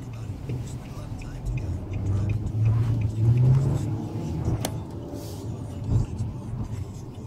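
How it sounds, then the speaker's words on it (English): A 2016 Nissan Maxima S pulls away and accelerates on the road, a low engine rumble that builds to a peak and then settles, heard from inside the cabin beneath a voice. "You don't really have to step on the gas too much and the car just goes"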